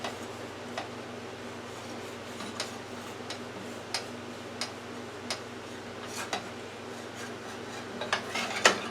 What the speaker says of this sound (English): I want to cut that off some